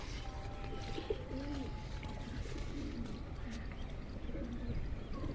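Soft, low pigeon coos repeating now and then over a steady outdoor background hum, with a few faint chirps mixed in, from kept pigeons in a village.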